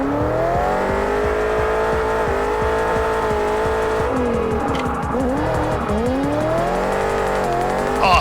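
A racing game car drifts after an e-brake entry: the engine drones and revs loudly while the tires squeal in long sliding bursts that rise and fall through the slide.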